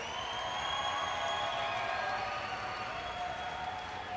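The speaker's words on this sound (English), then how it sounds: "how about a nice round of applause for Vince Vendetta Morales right there" Crowd applause and light cheering for MMA fighter Vince Morales after a submission win at a Front Street Fights event, a steady wash of clapping from the arena audience.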